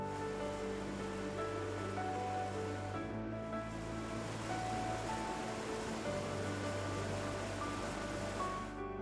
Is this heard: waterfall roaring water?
yes